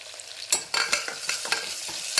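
Onions frying in a pan over a high flame, with a bright crackling sizzle and several sharp scraping stir strokes in quick succession, close and fairly loud, no voices.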